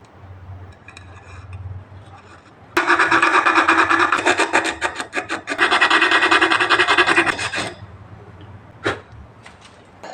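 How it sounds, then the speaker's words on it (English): Sandpaper rubs against a hand-carved wooden fork in loud, rapid back-and-forth strokes, two long bursts separated by a short pause, followed by a single brief scrape. "After a little bit of sanding,"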